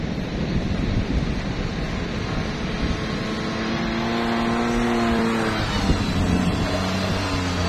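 Car engine driving and revving along SeaView Beach in Karachi near the waves, loud and close, with surf and wind roaring underneath; the engine tone rises and holds in the second half, no speech.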